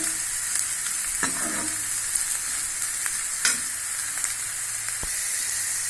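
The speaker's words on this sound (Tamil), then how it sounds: "இப்போ நம்ம இந்த அளவுக்கு இதை வறுக்கணுங்க." Bitter gourd pieces frying in oil, a loud, steady close-up sizzle with a few scattered clicks and scrapes from stirring.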